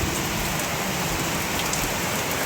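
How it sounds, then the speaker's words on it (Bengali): Heavy seaside rain pours down in a loud, dense, unbroken roar of drops striking surfaces, constant and close with no voices over it. "কেমন বৃষ্টি হচ্ছে, দেখেছো"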